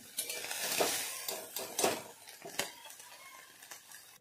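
Vegetables scraped out of a kadhai after frying: loud metal clatter and spoon scrapes against the pan, with several sharp knocks and a faint sizzle underneath, close by and with no one talking.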